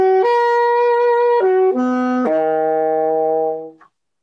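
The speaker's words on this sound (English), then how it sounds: "On the saxophone, it's going to sound like this." A solo saxophone steps through the notes of a first-inversion major seventh chord, sounding five sustained, clean tones one after another before the last note fades out; no voices.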